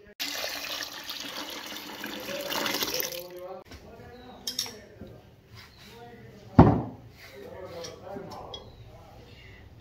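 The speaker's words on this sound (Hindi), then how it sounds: "ये जो बचा है उसमें हम डालेंगे पानी और इसमें डाल देंगे ये 3 भर के" Water is poured into leftover buttermilk in a home kitchen for making butter, a rushing, splashing pour for about three seconds, then clinks and handling noises while a person talks.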